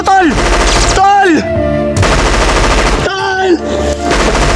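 Loud bursts of automatic gunfire crack in rapid volleys in a staged drama standoff, separated by brief gaps and mixed with dramatic sound-effect sweeps.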